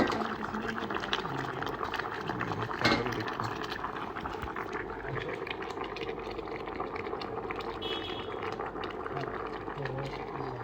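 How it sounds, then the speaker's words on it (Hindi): Sweet corn kernels boil in a pot of water at an Indian street food stall, giving a steady, dense bubbling and rumbling that continues throughout with faint background activity. "ये सही उबड़ रहे हैं।"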